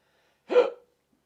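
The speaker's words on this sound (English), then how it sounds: "Do all your hiccups come with burps?" A single short hiccup during a live podcast, one sharp, close vocal catch that fades quickly into silence.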